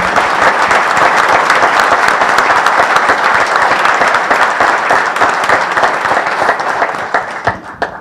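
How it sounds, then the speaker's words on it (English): Loud, sustained applause from an audience at a press conference fills the room, a dense wash of clapping that holds steady for several seconds before thinning out into scattered claps at the end. "If you'll stand up, give them a round of applause."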